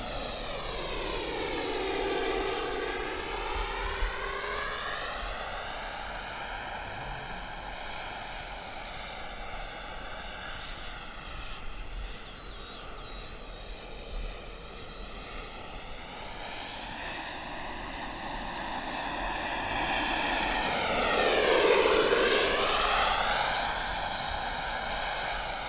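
A Freewing B-2 Spirit RC jet with twin 70mm electric ducted fans flies past, its high whine sweeping up and down in pitch as it passes, swelling louder near the end.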